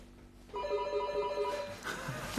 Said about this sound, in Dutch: We hebben een beller.